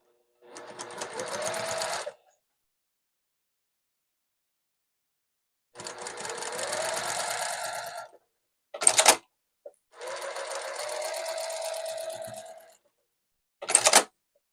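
A sewing machine stitches quilt block pieces in three long steady runs of rapid whirring, separated by pauses and a few short quick bursts, close and clear with no talking.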